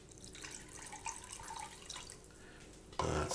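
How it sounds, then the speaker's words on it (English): Water poured into a Korean sloppy joe mixture in a home kitchen, a faint close trickle and light drips that end in a louder, fuller splash at the end. "Next thing we're going to do is put our water in."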